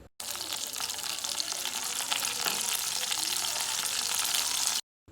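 Fennel, green chili and curry leaves fry in hot oil in a pan for a Chettinad pepper chicken, giving a steady, loud, close sizzle throughout.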